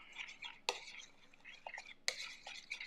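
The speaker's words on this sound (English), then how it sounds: "And we'll stir it up." Mustard sauce stirred in a pot, giving two sharp metallic clinks of a utensil against the pot amid soft scraping and swishing, close and quiet with faint low speech underneath.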